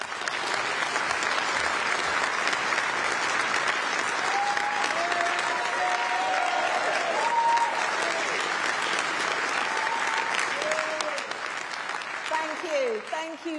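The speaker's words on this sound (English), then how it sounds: "Ladies and gentlemen, please join me in welcoming the Right Honourable Penny Mordaunt" A large audience at the Conservative Party Conference 2024 claps steadily and loudly in a hall, with a few cheers rising over the dense applause.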